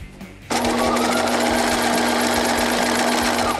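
A sewing machine runs steadily, attaching fringe trim to a basic top with a loud, continuous, even hum and rapid needle chatter that starts abruptly after a short quiet lead-in.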